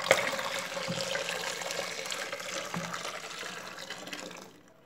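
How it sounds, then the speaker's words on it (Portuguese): Water running steadily into a homemade fabric softener mixture, a continuous close splashing pour that thins and tails off at the end, with no talk. "Mas antes eu vou colocar mais 2 litros de água."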